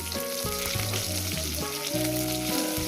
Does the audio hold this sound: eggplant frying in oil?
yes